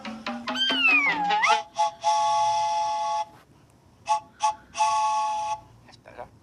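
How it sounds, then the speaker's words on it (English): An Acme orchestral three-tone whistle blown several times: a long, loud chord-like blast, then two short toots and another sustained blast, following an opening burst of sliding, wavering whistled pitch. "These are made by Acme for orchestras, orchestral three-tone whistles"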